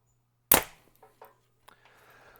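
A 2023 PSE Mach 34 compound bow with Evolve cam firing, one sharp loud snap of release followed by a few faint rattles and a soft trailing buzz of vibration, otherwise quiet.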